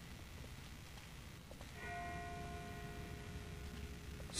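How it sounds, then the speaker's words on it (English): A distant bell tolls in The Walking Dead video game, a faint ringing tone that starts partway through and hangs with a long resonant decay over quiet ambient noise. "That's not the same bell as before. This one's further off."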